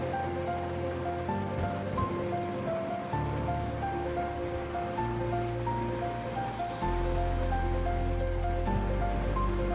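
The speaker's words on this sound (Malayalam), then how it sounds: "അപ്പോൾ ഇതൊന്ന് തിളയ്ക്കട്ടെ." Fish curry with kudampuli bubbles in a pot, a continuous rolling boil that grows louder toward the end, with no voices.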